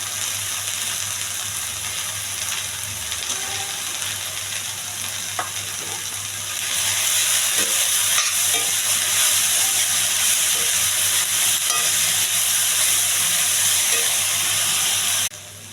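Broad beans tempered with chili powder, turmeric and salt fry and get stirred in a pan. A steady sizzle swells louder partway through, with scattered scraping stirs, then cuts off near the end.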